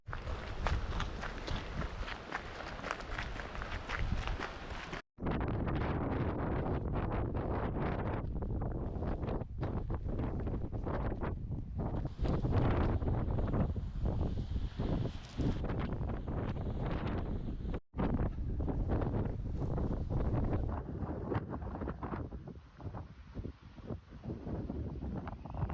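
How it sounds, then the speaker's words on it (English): Strong wind buffets the microphone atop the cliffs at Omaha Beach in Normandy, a loud, continuous rushing roar with gusts and brief drops, no talking. "It's a bit windy out here."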